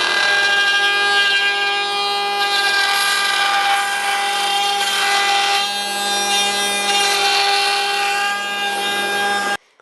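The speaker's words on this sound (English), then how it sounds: "Let's see if we can cut some wood to go in that." A power tool cuts wood with a loud, continuous, high-pitched whine that holds steady for several seconds and then stops abruptly at the end.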